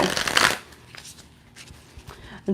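A deck of tarot cards is shuffled by hand, a loud riffling burst up close followed by softer sliding and tapping of cards, ending with a brief sharp riffle.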